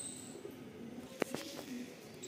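Rampuri pigeons give soft, low coos, faint and brief, with a single sharper call partway through against a quiet background.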